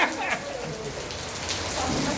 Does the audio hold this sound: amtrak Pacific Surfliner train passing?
no